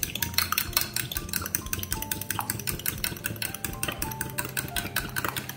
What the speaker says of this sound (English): So I'm just going to stir these up.